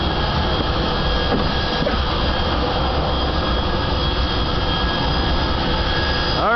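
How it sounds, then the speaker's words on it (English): A fighter jet engine roars steadily and loudly during takeoff, a continuous high-powered whine and rush with no pauses. "Launching jets, baby."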